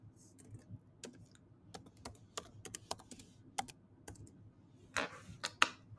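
Keys clatter on a computer keyboard in an irregular run of quick, close taps with short pauses, light and fairly quiet, with no voices.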